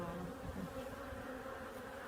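Honeybees buzz continuously around an open hive during an inspection, a close, steady droning hum with slight wavering pitch and no voices.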